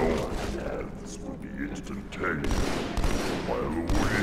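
Gunfire bursts in Halo 2 Anniversary, rattling under excited player chatter, with louder shots toward the end of the stretch.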